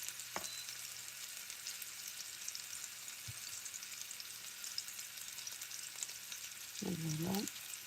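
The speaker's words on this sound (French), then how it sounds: "On va les laisser colorer un peu." Meatballs brown in a pan with a quiet, steady sizzle and a couple of soft utensil taps, then a brief louder scraping stir near the end.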